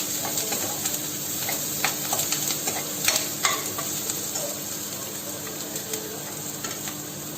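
Onions sauté in a pan toward light brown for paneer bhurji, giving a continuous crackling sizzle with frequent irregular stirring scrapes, close and fairly loud, with no talking.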